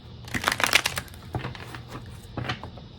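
A deck of cards shuffled by hand in a bursty riffle of quick crisp flutters, then a few softer taps and slides, close and fairly loud.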